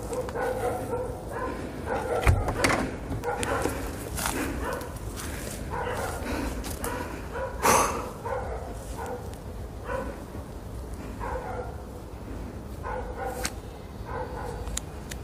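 Several dogs bark repeatedly in uneven bursts at moderate distance, with yips mixed in over a continuous background.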